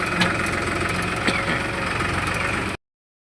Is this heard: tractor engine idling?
yes